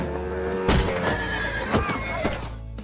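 A horse in a film about Pablo Escobar neighs loudly after being struck by a motorbike, its harsh whinny rising over a dense, loud film soundtrack with sharp impacts.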